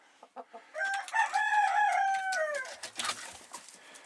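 Chickens in a winter coop give a few short clucks, then a rooster lets out one loud, close crow, followed by more scattered clucking.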